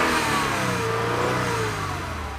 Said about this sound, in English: what you want to do when you're not driving the car too much is get in here and rev